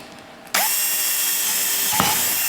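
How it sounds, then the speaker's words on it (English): A power drill with a 3/16 inch bit kicks in abruptly and runs at a steady high whine, drilling at an angle, close and loud, with a brief change in tone near the end. "made a little indentation to make it easier to drill at this angle"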